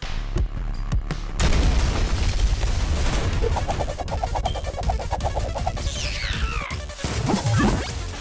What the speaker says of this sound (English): This is where they shoot 3 times.